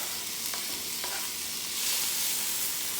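Onions and green onions sizzling in a pan while being mixed around, a steady frying hiss with a couple of light utensil clicks, rising a little louder toward the end.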